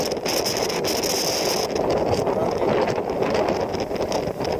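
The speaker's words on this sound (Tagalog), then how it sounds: "Salong-salong mo lahat yung malakas na hangin" Strong typhoon wind sweeping an open coastline, a dense, continuous roar buffeting the microphone, loud and unbroken for several seconds with no voices.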